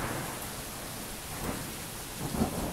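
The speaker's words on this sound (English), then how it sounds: "That's thunder." Thunder rumbles through a steady, dense rainstorm, with a low roll swelling under the constant hiss of rain and no voices.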